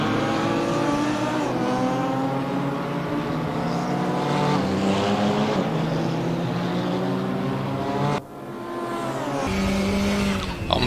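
Race cars, including a KTM, roar past at Mantorp Park with loud, sustained engine howls that shift pitch through gear changes, one car passing close before a brief dip and another engine note takes over.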